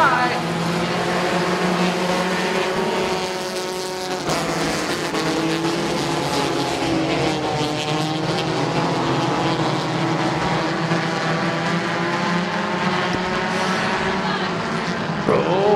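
Race cars roaring off at the green flag of a feature race, a loud sustained multi-engine drone with rising and shifting engine tones close by, with an announcer's voice over it.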